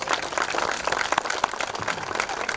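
Audience applause at an outdoor mural dedication for the Pageant of Bands, a steady wash of many hands clapping that holds evenly for a few seconds with no voices over it.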